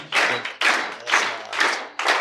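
An audience at an office event in a hall claps to welcome the deputy CEO to the stage, heard as sparse, separate bursts of a few hands rather than full applause.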